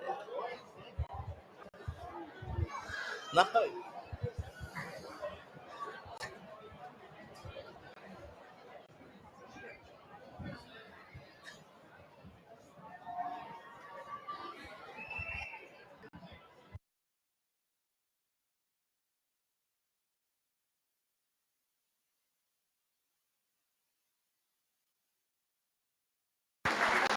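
Crowd chatter and general hubbub at a rugby league A Grade grand final between Brothers and Souths at Townsville Sports Reserve, a steady murmur of many voices with scattered applause-like bursts that cut out abruptly partway through.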